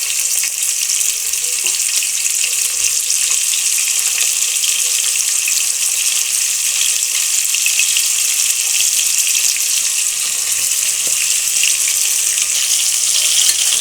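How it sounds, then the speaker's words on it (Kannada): Onions fry in a pan for tomato bath, giving a dense, even, close sizzle that stays constant throughout, with faint occasional clicks and no speech. "ಈರುಳ್ಳಿ ಹಾಕ್ಕೊಂಡು ಚೆನ್ನಾಗಿ ಕೆಂಪಾಗೋ ತನಕ ಹುರ್ಕೋಬೇಕು."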